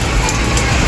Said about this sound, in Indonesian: ini hujan karena memang musim hujan juga ya